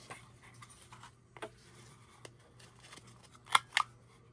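Scissors trim paper for decoupage with faint, quiet clicks and light snips, then two crisp, close cuts just before the end.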